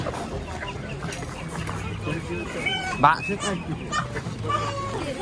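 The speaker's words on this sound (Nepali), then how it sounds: "हामी चाहिँ यहाँनिर लोकल कुखुरा बेचिरहेको छ" Local red and white chickens cluck and squawk continuously amid a busy Sunday market in Lisbon, with people talking in the background.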